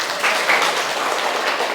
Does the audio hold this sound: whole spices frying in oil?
no